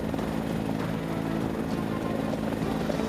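A rescue helicopter hovers close by, its steady rotor and engine drone forming a continuous, loud, even rumble for the whole moment with no voices.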